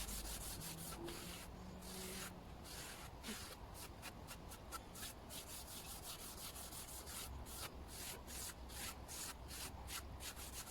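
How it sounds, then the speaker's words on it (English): A scouring pad scrubs back and forth across a painted wooden sign, making quiet, rhythmic scratchy rubbing strokes in a steady run of repeated passes. "It's where the scouring pad is kind of scratching the surface and exposing the white underneath"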